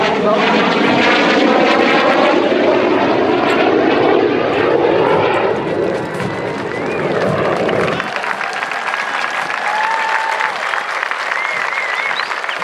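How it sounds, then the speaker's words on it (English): Two T-38C Talon jets of the 47th Flying Training Squadron fly a salute over an Air Force basic training graduation parade, a loud roaring jet rush sweeping past overhead while a large crowd applauds and cheers. "your attention to the right as two T-38C Talons render a flying salute to our graduated airmen"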